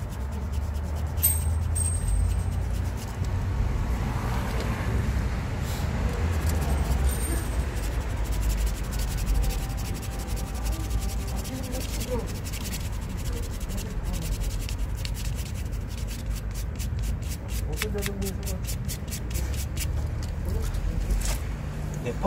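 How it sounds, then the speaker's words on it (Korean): Sandpaper rubs the surface of a punctured bicycle inner tube around the hole before patching, a steady scratchy scraping in short, repeated strokes heard up close. "여기 펑크 부위에 패치가 붙을 만큼의 표면을 사포를 가지고 문질러 줘야 돼요."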